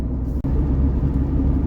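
A car rolls along the road, a loud steady low engine and tyre rumble heard from inside, with one brief dropout early on.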